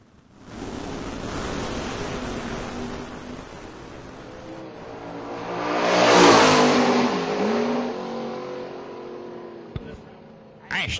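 Drag racing cars launch down the strip, among them Wesley Roberts' orange Triple R Racing car against A.J. Ash's entry. The engine roar swells to a loud peak midway, then fades into a distant drone.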